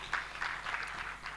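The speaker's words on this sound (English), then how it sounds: "A round of applause once more." A conference audience at a summit panel session claps in a brief, faint round of applause, a soft patter of many hands at a distance.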